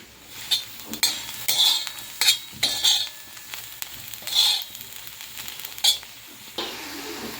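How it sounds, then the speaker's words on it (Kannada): Palak sambar tempering sizzles and spits in a hot pan while a spoon stirs and clinks against the metal in quick bursts, close and clear with no talking. "ಈಗ ಒಗ್ಗರಣೆ ಕೂಡ ಹಾಕ್ತಾ ಇದ್ದೀನಿ"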